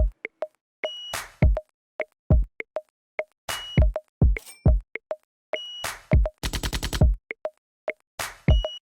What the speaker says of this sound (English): There's just some extra sounds like this beep, this cash sound, and then a kick and a clap